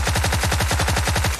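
Rapid automatic gunfire in a battle-royale shooting video game, a loud, continuous burst of evenly spaced shots lasting over a second.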